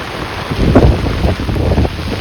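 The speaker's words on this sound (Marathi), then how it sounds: "पाऊस असा वाऱ्यात पळतोय जोरात जोरात" Strong gusty wind buffets the microphone with a low roaring rumble, rain hissing beneath it, loud and continuous.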